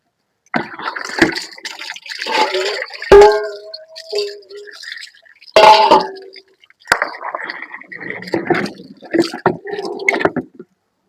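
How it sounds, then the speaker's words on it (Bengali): Tap water runs and splashes as vegetables are rinsed in a home kitchen, with irregular bursts of gushing and clattering over several seconds, close and fairly loud. "কলের জল চলে এসেছে, আর এটাতে আমি এখন সবজিগুলো সব ধুয়ে নেবো ভালো করে।"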